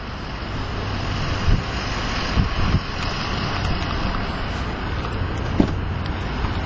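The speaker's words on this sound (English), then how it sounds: "let's go ahead and start the engine and take you on a drive" A 2012 Ford Focus SEL hatchback running while driving, a steady engine hum blended with road and wind noise, with a few faint thumps over the drone.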